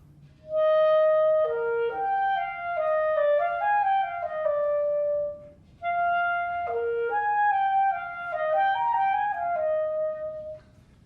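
A solo clarinet plays the graceful, lilting trio melody of the minuet from Mozart's Symphony No. 39 in two phrases with a short pause between, over a faint low hum.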